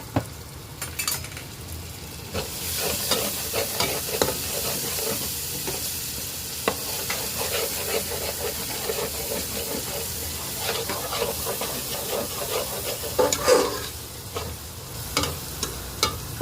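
Spice paste is stir-fried in a pan, giving a continuous hissing sizzle broken by repeated scraping strokes of a spoon and occasional metal clinks, with one busier burst of stirring late on.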